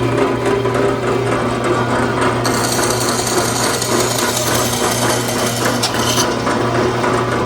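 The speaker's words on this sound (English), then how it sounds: "But first, I'm going to go through and cut the bill." A bandsaw cuts the bill of a cedar goose decoy, giving a steady loud machine drone with a steady low hum, and a harsher high-pitched cutting whine rising partway through and fading near the end.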